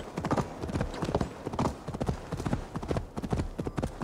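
Horse hooves in the video game Assassin's Creed Valhalla, a fast, steady galloping clip-clop of hoofbeats on the ground, close and continuous with faint game ambience behind.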